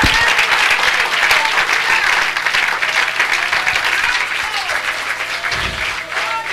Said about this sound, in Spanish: ese aplauso para el Señor